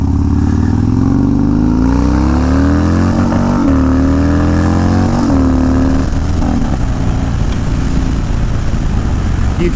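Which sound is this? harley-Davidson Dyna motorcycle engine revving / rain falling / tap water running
harley-Davidson Dyna motorcycle engine revving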